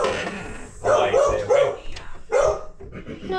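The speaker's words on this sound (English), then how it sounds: "dog, she's just a barker" A dog barks loudly nearby in a home kitchen, three or four sharp bursts in quick succession.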